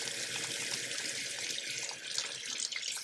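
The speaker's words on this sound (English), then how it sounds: "I'm going to dip it back into the soapy water" A makeup brush is swished and sloshed in a bowl of soapy water, giving a close, continuous watery swirling and trickling with small splashy accents.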